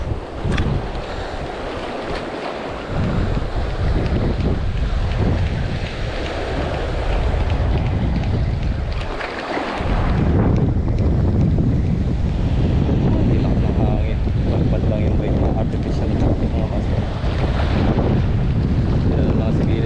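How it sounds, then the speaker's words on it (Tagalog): Strong wind buffets the microphone with a steady roar, mixed with water and boat noise throughout, growing heavier in the second half. "Malakas ng hangin."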